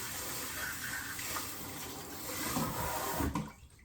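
A kitchen sink tap runs steadily while a spoon is rinsed under it, a close, continuous gush of water with splashing that shifts before the flow cuts off near the end.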